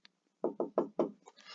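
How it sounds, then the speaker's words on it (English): Four sharp knocks on a door in steady rhythm, close and clear, followed by a brief faint sound. "if you hear knocking at the door"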